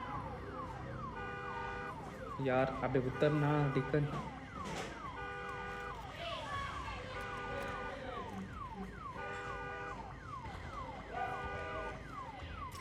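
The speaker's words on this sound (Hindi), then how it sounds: "अरे भाई अलार्म बज गया और सारे ज़ॉम्बीज़ आ गए" Alarm blaring in the video game Days Gone, a repeating electronic siren tone that cycles steadily for the full stretch, with people talking over it briefly.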